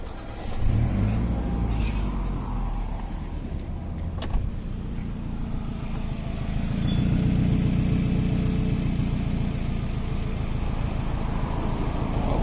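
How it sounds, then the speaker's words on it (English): A car engine cranks and fires up during a battery starting test, then settles into a steady idle, loud and close with no talk. "Let me start the car."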